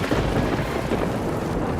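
Heavy, torrential rain pours over farm fields in a dense, steady hiss with a low rumble beneath it, continuous throughout the short stretch.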